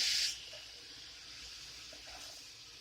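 Water runs from a kitchen tap in a brief, bright hissing burst for hand washing, then cuts off, leaving a quiet steady background hum.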